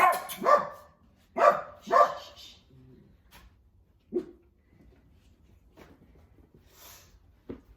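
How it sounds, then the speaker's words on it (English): A blind dog barks in a quiet room during a yoga class, three sharp close barks in quick succession followed by a couple of softer, isolated woofs with gaps of near silence between. "I do have a blind doggy and he likes to pretend like he sees things sometimes."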